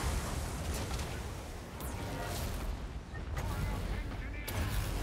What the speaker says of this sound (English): We'll use a lot of our artillery just to kill a lot of them.